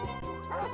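A cartoonish dog bark in the Mario Party video game, a short loud woof sounding over game music.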